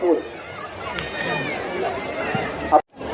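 Busy street chatter from a dense crowd, many voices blending into a steady hubbub with a brief dropout near the end.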